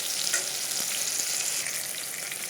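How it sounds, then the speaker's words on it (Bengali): Pieces of pointed gourd (potol) frying in oil until reddish, a dense crackling sizzle with occasional stirring scrapes, close and continuous. "পটলগুলো লাল লাল হয়ে এসছে, আর একটু হোক তুলে দেবো।"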